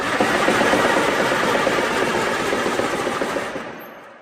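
A 1957 Allis-Chalmers WD45 two-wheel drive tractor engine cranks over steadily without firing, a loud continuous rapid chugging from the starter that runs for several seconds and then stops.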